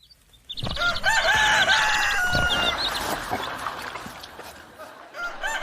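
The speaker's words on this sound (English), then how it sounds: "He does not stop crowing." A rooster crows loudly nearby in a long drawn-out call, with hen clucks and other fowl sounds layered underneath as the crow fades.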